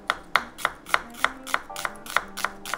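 A knife chops a shallot finely on a board in a steady run of about nine crisp, evenly spaced strikes, close and clear with no talking.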